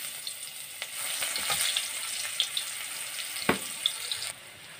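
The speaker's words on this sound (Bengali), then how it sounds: "মাছের তেলের মাঝে আমি পেঁয়াজ দিলাম" Onion frying in hot oil left over from frying fish, a steady sizzle with occasional louder crackles and stirring clatter, close up, no talk.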